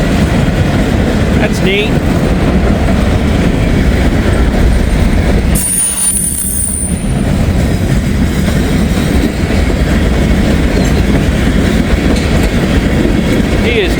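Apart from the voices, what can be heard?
Norfolk Southern freight train passing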